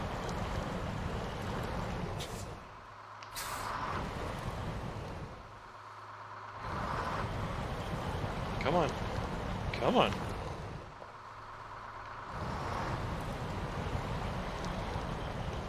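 A stuck truck in a video game revs and strains in low gear as its tires spin, a rough, surging engine rumble with short lulls, while a man urges it on.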